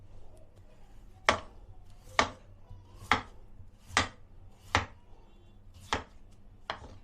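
Potatoes being chopped with a sharp knife on a board, seven crisp separate strikes at a steady unhurried rhythm, close and clear over a quiet kitchen background.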